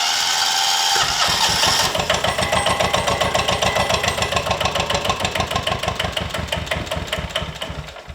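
An old diesel lawn mower engine, pulled from long grass, cranks and fires up, settling into a loud, steady knocking chug that runs on close by.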